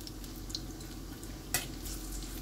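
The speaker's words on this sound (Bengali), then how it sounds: "এবার একটা একটা করে আমি বড়াগুলো ছেড়ে দেব, দিয়ে ভেজে নেব।" Banana flower fritters (mochar bora) frying in hot oil, a steady soft sizzle throughout with a couple of brief clinks or stirs, close and moderately quiet, no talk.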